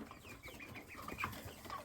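Soft clucking from a few naked-neck broiler chickens, low and continuous, with occasional higher notes mixed in.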